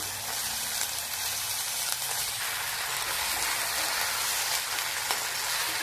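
Chopped eggplant sizzles and crackles in a pan of softened fried onions, a steady dense hiss like rain that carries on evenly throughout.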